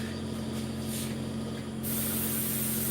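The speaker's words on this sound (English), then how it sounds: "Sometimes I forget to spray these muffin tins." Cooking spray hisses from a can into muffin tins in a home kitchen, one continuous loud, close spray over a steady background hum.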